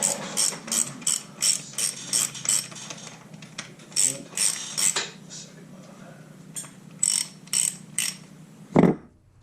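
A ratchet wrench with a 19 mm socket tightens a bolt on a 2012 KTM 150 SX dirt bike, clicking in quick repeated bursts of rapid pawl ticks separated by short pauses, ending in a sharp metallic clunk.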